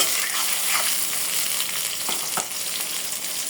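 About a cup of salted onions fry in hot oil for goat liver curry, making a dense, even sizzle throughout with occasional soft stirring scrapes close by.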